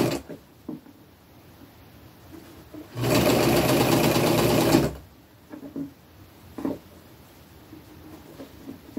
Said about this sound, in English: And then we're just going to straight stitch it down.